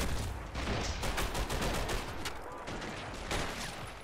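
Dense, continuous crackle of massed small-arms fire in a toy army men video game battle, many overlapping shots blending into a loud, steady fusillade with no pauses.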